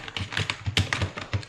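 Fingers tapping on a computer keyboard, a quick uneven run of close, soft clicks with no talking.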